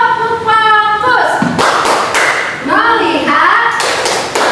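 Children in an Indonesian classroom doing a rhythmic clapping chant, sharp group claps and slaps punctuating loud chanted voices, close and lively.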